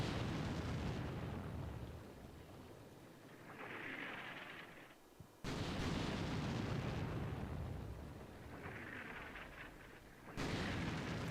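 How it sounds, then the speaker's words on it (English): An artillery barrage in the war game Combat Mission: Shock Force 2, with 120 rounds landing as heavy booming explosions that break out sharply, roll on and fade, then strike again about every five seconds, sounding distant and rumbling. "we can probably stop that barrage"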